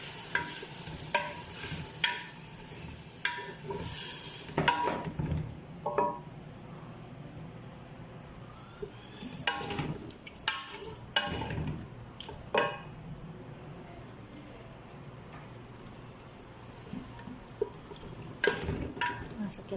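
Chicken and yellowed onions fry in a pan, with a soft sizzle beneath intermittent stirring, scraping and clinks of a utensil against the pan, heard up close.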